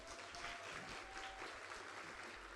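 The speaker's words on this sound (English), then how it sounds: "Can I hear a round of applause for your servers?" A round of applause for the servers at a Mother's Day women's luncheon, steady dense clapping from a crowd filling the room throughout.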